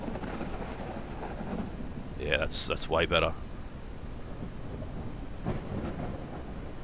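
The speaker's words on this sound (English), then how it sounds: "Let's see how we go with the thunderstorm." Rain and rumbling thunder fill a storm in the mining game Out of Ore, a steady wash with a louder swell midway as someone talks briefly over it.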